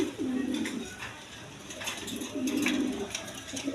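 Pigeons at a Bengali breeding farm, including a pair of racers, coo in low repeated bursts, two main phrases close by with faint background noise.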